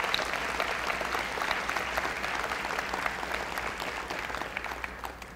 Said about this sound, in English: Give a free cheer for Susie, because I know she's watching.